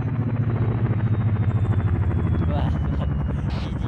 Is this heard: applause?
no